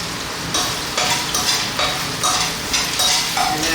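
Green Sichuan numbing peppercorns sizzle loudly in hot oil in a wok, a bright continuous crackle that surges in regular bursts as they are stirred, with no talking.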